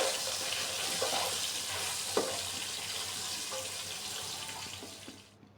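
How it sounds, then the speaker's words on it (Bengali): Potatoes frying in oil with salt and turmeric give a steady, dense hiss throughout, with a few soft clicks of stirring, the sizzle easing off near the end. "একটু লাল করে ভাজবো।"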